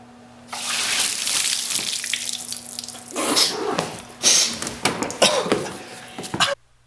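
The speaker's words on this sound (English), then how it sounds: "First you want to crawl under here though and release the coolant." Engine coolant pours from the radiator drain valve of a 3.7L V6, a steady splashing gush of liquid that runs for several seconds, with a few sharper bursts and drips before it cuts off.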